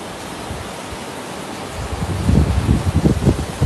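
Wind-blown spray of a monsoon reverse waterfall at Kavlesaad Point in the Konkan gives a steady broadband rush that swells into heavy, gusty buffeting near the end.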